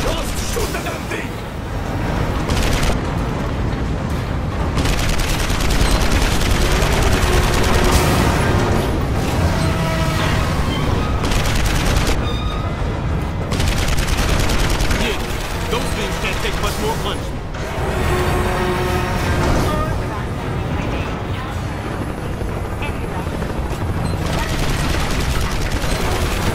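Sustained gunfire and explosive booms from a boss fight in the video game Marlow Briggs, loud and continuous throughout, mixed with game music and effects, with a character's voice speaking over the action.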